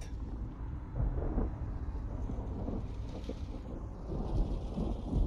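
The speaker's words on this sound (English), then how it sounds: "It's a really nice effect with the rain as well." Rain and rolling thunder in the VR video game Low-Fi form a steady wash of falling rain under low rumbles that swell and fade, moderately loud with no talking.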